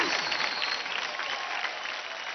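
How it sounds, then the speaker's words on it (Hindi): A studio audience on the Dance India Dance Season 4 show applauds, a dense, continuous wash of clapping that stays loud and even from start to finish. "जोरदार ताली हो जाए।"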